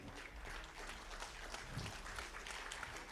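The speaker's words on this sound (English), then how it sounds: "please give them a very big round of applause" An audience at a foundation event applauds students, the clapping steady and fairly distant, with a low murmur of the crowd underneath.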